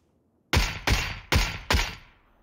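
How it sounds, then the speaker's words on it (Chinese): Four loud, sharp rifle shots ring out in the PUBG battle royale game, evenly spaced about a third of a second apart, each with a short decaying tail, against an otherwise quiet background. "又打了一枪，打不死"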